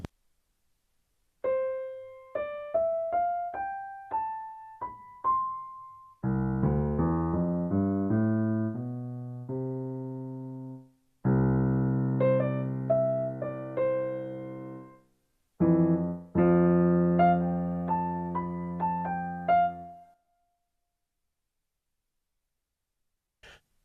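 Digital piano phrases in several bursts, an ascending run of single notes followed by full chords, each ringing out with a long, spacious room reverb tail.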